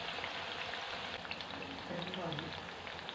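Steady, dense bubbling and crackle of pepper vada deep-frying in hot oil for a Hanuman Jayanthi temple-style recipe, a continuous close hiss with soft pops and a faint voice underneath.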